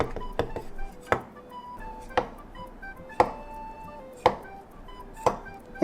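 A single-bevel kitchen knife, switched to a double-bevel knife, chops through seaweed on a cutting board in sharp, evenly spaced strokes, about one per second, close and crisp against a quiet background.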